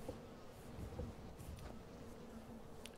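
Bees buzz softly around an apiary in the game Skyrim, a faint continuous insect drone with low ambient rustle and no talking.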